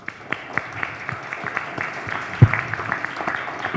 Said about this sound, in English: Like a round of applause for Tracy.